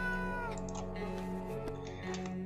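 A cat meows in the survival game 60 Seconds! Reatomized, a short meow over steady droning game music and ambience.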